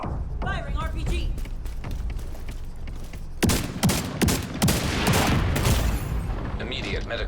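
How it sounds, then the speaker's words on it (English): RPG launch and gunfire in the shooter game The Division 2, a loud burst of sharp booming shots and explosive thuds following a stretch of rapid clattering fire, with game voices talking over it. "Firing RPG."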